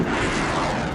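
Missile fired from a US Navy warship: a loud, dense roaring blast of broadband rocket noise that holds steady and unbroken for the whole second, with no voices.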